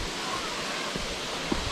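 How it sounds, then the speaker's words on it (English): A waterfall in the Nant y Ffrith valley in North Wales, near old Roman lead mines, gives a steady broadband rush of falling water, close and continuous, with a couple of faint brief knocks near the end. "and then there's a waterfall."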